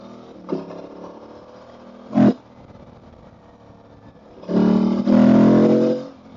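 An Aprilia Tuareg 660 motorcycle being ridden on a narrow twisty road, with short engine bursts near the start and a longer, louder roar of acceleration later, separated by quieter stretches, with no voices.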